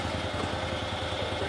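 A vehicle engine runs steadily as the driver eases off the brake, a continuous mid-pitched idling drone with slight clatter, close and unbroken for a brief moment with no voices over it.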